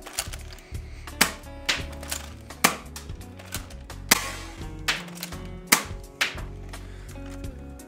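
A Nerf Hammershot blaster fired and its hammer cocked repeatedly, giving a regular run of sharp plastic clacks and snaps about every half second to second, close and crisp with no voices.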